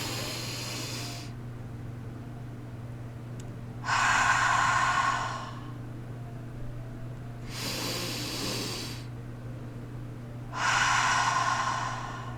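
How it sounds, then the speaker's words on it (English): Slow deliberate breaths come in long airy hisses, each inhale and mouth exhale lasting a couple of seconds, with pauses between them over a soft steady hum. "We pause and then exhale through our mouth."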